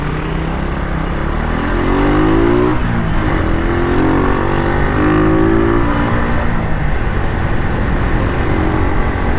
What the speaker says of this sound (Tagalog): Down gear for engine brake.